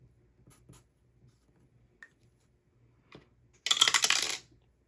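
Dice rolling through a dice tower: after a few faint taps and handling noises, a sharp rattling cascade of clicks erupts near the end, close and bright, lasting close to a second before stopping.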